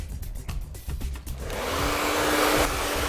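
A few soft clicks and handling sounds, then a hair dryer switches on and blows with a steady, loud whooshing roar while blow-drying hair.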